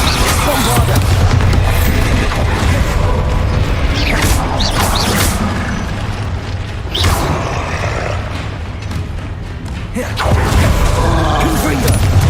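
A Bombarda spell blast in Hogwarts Legacy lands amid a dense, loud battle, with booming impacts and clattering debris layered over constant combat noise and shouted spell names.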